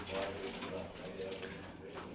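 Pigeons coo on a Gujranwala rooftop loft, soft repeated coos half-buried under someone talking nearby.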